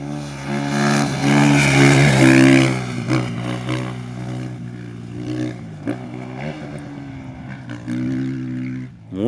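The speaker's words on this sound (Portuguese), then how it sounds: "Vamos acompanhar mais essa moto passando." A rally motorcycle revs loudly up close, its engine note rising then fading as it passes and climbs away through a mountain pass.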